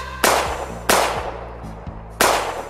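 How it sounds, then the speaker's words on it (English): Three sharp, loud gunshot-like bangs, each a sudden broadband crack with a short decaying tail, spaced roughly a second apart. "gunshots!"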